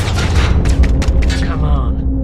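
A flashbang grenade goes off in Call of Duty Modern Warfare, a loud low boom with crackling bursts that rumble through the whole moment under ongoing game noise.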